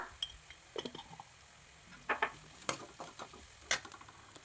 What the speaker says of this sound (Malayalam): അത് നന്നായിട്ടൊന്ന് വഴറ്റുക